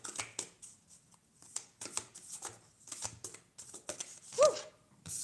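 Tarot cards are riffled and slid against each other in quick, crisp bursts of papery flutter and soft taps, close and fairly quiet, with occasional faint talk between shuffles.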